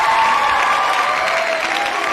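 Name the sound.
virtual round of applause sound effect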